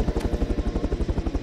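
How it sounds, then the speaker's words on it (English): A helicopter in the military game Arma 3 chops overhead with a fast, even rotor thump, steady and moderately loud with no talk over it. "Chopper's still up."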